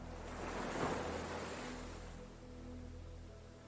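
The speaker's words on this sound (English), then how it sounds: "The sound of the waves lapping on the beach." Gentle waves lap on a palm-lined beach in a soft, steady wash with faint wind, swelling slightly and then easing, quiet and without voices.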